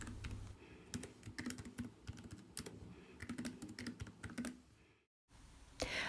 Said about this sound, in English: I am now going to type in a title for my display